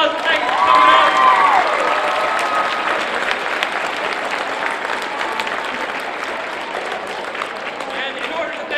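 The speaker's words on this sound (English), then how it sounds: "Give these guys a round of applause and thank you for coming out." An audience at a success-strategy talk applauds, a full burst of clapping that peaks early and then holds steady as continuous applause, with voices mixed in.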